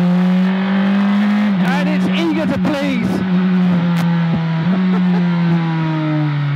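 A Praga R1 race car, 660 kilograms and 385 horsepower, runs on track, its engine holding a loud steady drone with brief rev blips and pitch swings, while someone talks over it.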